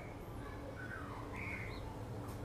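A magpie-robin gives a few faint, thin calls and whistles over a steady hiss of outdoor background noise, with no clear full song.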